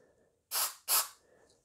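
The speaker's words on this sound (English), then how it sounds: "I'm using mass airflow sensor cleaner" Two short hissing bursts of mass airflow sensor cleaner are sprayed onto an intake pipe, close and crisp against near silence.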